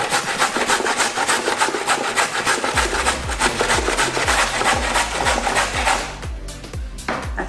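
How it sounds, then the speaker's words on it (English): Carrots rasped across the large holes of a hand grater, a loud steady scraping with rhythmic back-and-forth strokes that continue nearly the whole time. "I'm using the big side to grate my carrots"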